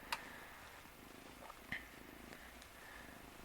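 A cat purrs while lying on a person's lap, a soft low steady rumble close by, with a couple of faint clicks and rustles and no talking.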